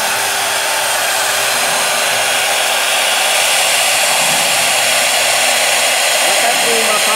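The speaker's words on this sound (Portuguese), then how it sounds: "você vai ver que a máquina está cortando muito rápido" A CNC router cuts at high speed, about 8 metres per minute, giving a loud, steady, hissing whine that continues unbroken throughout.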